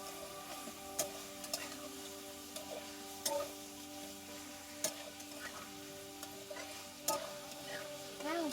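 Mutton with turmeric and salt sautéed in a pan, a faint, soft sizzle with occasional clicks and scrapes from stirring.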